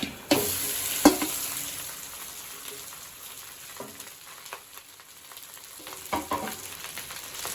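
Cooked rice and raw tamarind paste mixed in a pan, irregular scrapes and knocks of a spoon against the metal at intervals, with quiet stretches between.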